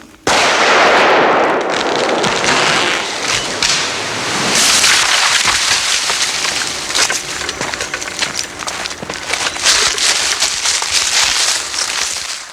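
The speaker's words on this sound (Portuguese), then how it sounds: "As sementes são colhidas a tiro." Gunshots fired into eucalyptus trees in Australia to knock down seed pods, loud sharp blasts followed by rustling and crackling of falling branches and debris, outdoors.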